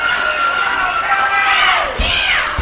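Wrestling arena crowd cheering loudly behind a wrestler during a title match, a sustained roar of voices that swells and surges toward the end.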